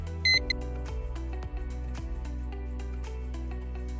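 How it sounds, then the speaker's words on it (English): A short electronic beep sounds as an RTK base station powers on after a long press of its power button, a brief high tone near the start over steady background music. "Long press the power button to turn on the RTK base station, and you can let go when you hear the beep."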